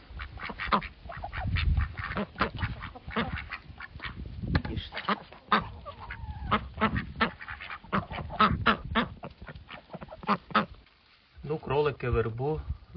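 A group of farm ducks quacks steadily while eating fresh willow, close and overlapping calls with a brief pause near the end before another loud burst; a voice speaks over part of it.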